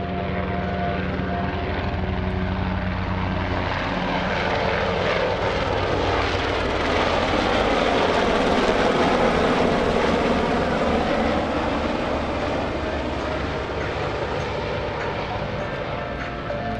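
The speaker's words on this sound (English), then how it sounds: "We've got a special helicopter." A Sikorsky UH-60 Black Hawk helicopter roars steadily overhead at an airshow, its heavy four-blade rotor chop and twin-engine whine swelling louder toward the middle before easing off.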